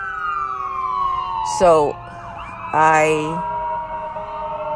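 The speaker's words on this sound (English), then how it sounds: "Paramedics and ambulance are driving by." An ambulance siren wails past with a steady, slowly falling pitch as the vehicle drives by, loud throughout, while someone briefly speaks over it twice.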